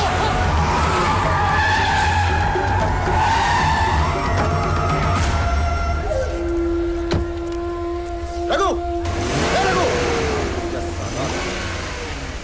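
An engine starting and revving with a sharp tire skid as a car pulls away on a street, heard loudly amid background movie score and voices.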